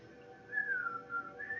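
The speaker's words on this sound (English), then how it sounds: "Now whistle Dixie." A person whistles a melodic tune, the pitch gliding up and down in a clear, fairly close line over a steady low background hum.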